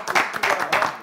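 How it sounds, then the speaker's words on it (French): Clapping from a small audience at a French-language broadcast, a few quick bursts of hand claps, loud and close, lasting about a second. "Applaudissez pour ma clinique."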